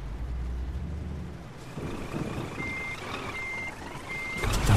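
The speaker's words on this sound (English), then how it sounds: "let's try and reverse my trailer" A truck backing a trailer in Euro Truck Simulator 2 gives off steady, evenly spaced reversing beeps over a low diesel engine rumble, fairly close and clear, with no one talking.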